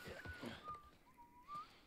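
Ellie, a character in The Last of Us Part 1, whistles in the game in a few quiet tones, including one sliding upward note, over soft background sounds.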